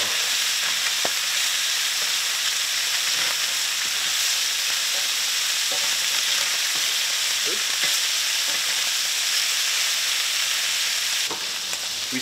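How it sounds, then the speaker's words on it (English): Food searing hard in a hot pan, a loud, dense, continuous sizzle and hiss with scattered crackles and small pops, steady throughout with no voices. "We seared both sides a little bit."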